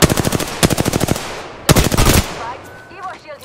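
Gunfire in Apex Legends comes as two loud, close rapid bursts of automatic shots, each a few rounds long with a short gap between them, then fades into fainter game effects while a player speaks.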